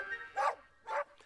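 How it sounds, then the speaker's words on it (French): A cartoon sheepdog barks twice on a train in a Thomas & Friends episode, two sharp, clear barks about half a second apart over a faint background hum. "Katie aboie, mais ça ne sert à rien."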